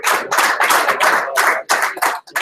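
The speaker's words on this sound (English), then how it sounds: "Round of applause, please." Close, loud clapping from an audience at a cup quarter-final draw event, coming in several distinct bursts with brief gaps between them.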